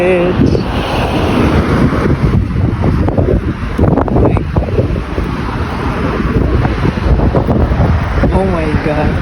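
Heavy wind buffets the microphone in a loud, constant roar at a seaside beach, with the wash of sea waves blended underneath and a voice speaking faintly in places.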